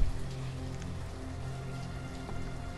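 Steady soft rain patters continuously in the village-building game Banished, a gentle even hiss of droplets with no voices.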